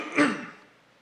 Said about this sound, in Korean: 제가 예배 드릴 때 하도 이렇게 헛기침하니까